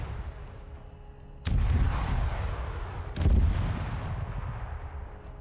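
Two heavy artillery blasts in a video game, each a deep booming shot followed by a long rumbling decay, spaced a couple of seconds apart.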